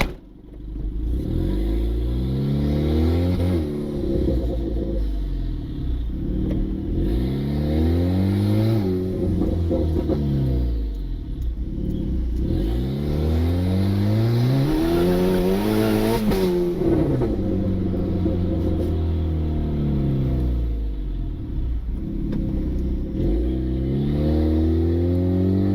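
A turbocharged Honda Civic revs and accelerates hard through repeated gear pulls, its engine note sweeping up and dropping back at each shift, loud and close with no talk over it.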